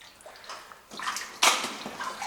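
Water sloshing and splashing underfoot in a flooded, muddy mine tunnel, with a few uneven splashes growing louder as someone wades through, echoing in the enclosed space.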